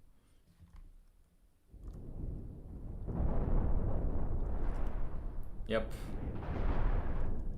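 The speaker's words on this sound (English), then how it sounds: "those are nukes, they deal a lot of damage" Heavy nuclear missile blasts in an AI ship tournament video game, a deep rolling roar that swells at about two seconds and stays loud with layered booms and crackle, a brief voice speaking near the start.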